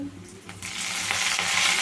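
Garlic and curry leaves dropped into hot oil for tempering, a quiet start that swells into a loud, close, continuous sizzle and crackle.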